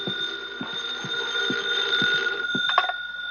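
Old-fashioned telephone ringing in a 1951 radio crime drama, a rapid repeating bell trill with steady rhythmic pulses, close and clear, with no talk over it.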